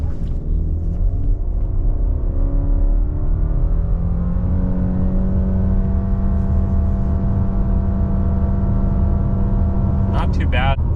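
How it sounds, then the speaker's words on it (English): A 2025 Subaru Legacy with a CVT launches hard from a brake-rev with traction control off, accelerating 0 to 60 mph at altitude. The steady, loud engine drone rises smoothly in pitch for about ten seconds, heard from inside the cabin. "0 to 60 in the Subaru Legacy"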